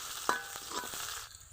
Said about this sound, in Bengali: কড়াইয়ে দিয়ে দিব পেঁয়াজ কুচি, পেঁয়াজ হালকা ভেজে নিব।